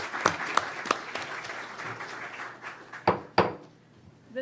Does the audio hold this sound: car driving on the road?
no